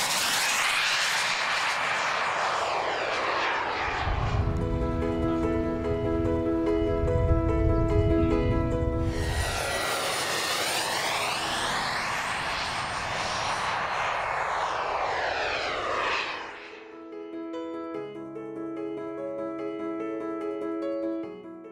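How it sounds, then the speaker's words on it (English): A turbine-powered model jet airplane screams past with a loud, high whine, rising and falling in pitch as it flies by at up to about 250 km/h, then fades into a distant hum. "the turbine engine can propel the aeroplane to a top speed"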